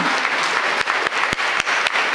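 An audience at a Tamil motivational talk gives a brief, dense burst of clapping that stays loud and steady throughout, with a few sharper individual claps standing out.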